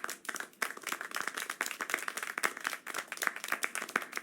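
A small group claps in the video game Syberia: The World Before, a brisk, fairly soft run of rapid, uneven hand claps that continues throughout with no talking.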